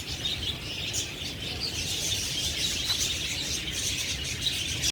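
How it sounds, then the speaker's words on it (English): Many lovebirds chirping inside a zoo aviary, a dense, continuous high twittering chorus that holds steady throughout, with no one talking over it. "They are chirping so much."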